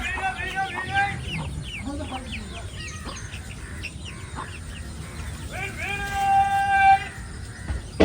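Chickens cluck and call repeatedly, with a rooster-like drawn-out call near the end, over a noisy background and some voices.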